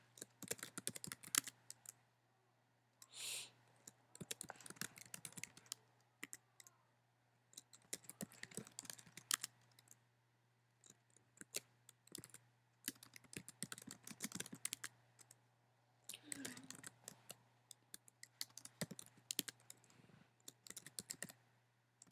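Bursts of keyboard typing, quick clicky keystrokes in clusters separated by short pauses, close and fairly quiet over a steady low hum.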